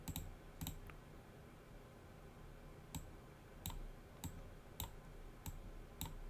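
A computer mouse gives about nine faint, sharp clicks at uneven intervals, some in quick pairs, over a quiet room hum.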